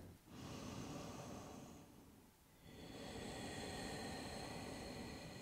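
Deep, slow breathing during a yoga stretch, close and soft: a long airy inhale, a brief pause, then another sustained breath, with no talk.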